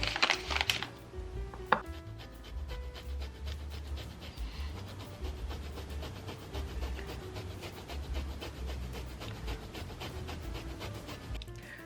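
Organic butter is creamed with a spatula in a bowl, giving quiet, repeated rubbing and scraping strokes at a steady pace, with a sharper knock or two near the start.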